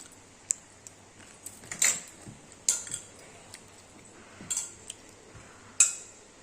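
A spoon clinks against a bowl of oats while someone eats, with scattered light, sharp taps at irregular intervals, close and fairly quiet, and no talking.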